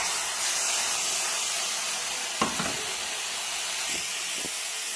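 Mussels drop into a pan of hot masala paste and a steady loud sizzling hiss follows, with a few faint knocks partway through and no talking.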